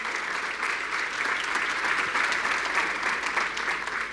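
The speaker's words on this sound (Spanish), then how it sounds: "la recibimos con un fuerte, fuerte aplauso" Strong, sustained applause from a conference audience in Argentina welcoming a speaker to the stage, dense clapping holding steady for several seconds.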